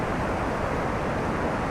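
A river murmurs in a steady broadband rush of flowing water, even and unbroken throughout, with no other sounds standing out.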